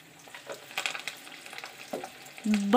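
Vegetable keema pakoras frying in hot oil over a low flame, a soft steady sizzle with scattered crackles and a brief scrape of stirring, rising slightly toward the end, with no speech.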